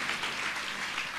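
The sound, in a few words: congregation applause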